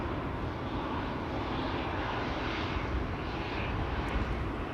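A KLM Boeing 787-9 Dreamliner departs Schiphol, its engines giving a steady, broad roar that holds at even loudness throughout with no voices.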